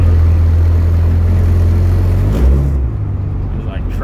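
A Ford 2.3 EcoBoost engine runs with a loud, steady low drone and whir throughout, close and dominant, easing slightly toward the end, with no clear talking.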